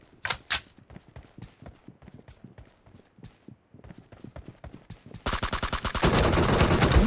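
Gunfire in the mobile battle royale game PUBG Mobile: bursts of sharp rapid shots in a clipped rhythm, then a loud dense stretch of continuous firing and noise toward the end, with no talk.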